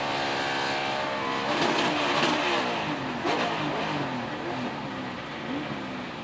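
NASCAR stock car of Ryan Blaney at Kentucky Speedway, suffering a suspected broken drive shaft after jumping out of 4th gear, roars loudly and steadily at close range, engine pitch rising and falling as it accelerates through the corners.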